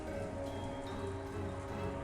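Steady rain with wind outside in the Umineko: Turn of the Golden Witch visual novel, a continuous even wash of falling drops and gusts over a low background hum, with no voices.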